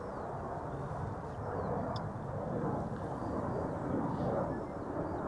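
A KLM airliner in Orange Pride livery approaching, a distant continuous low jet rumble and roar, steady and fairly faint, mixed with wind noise.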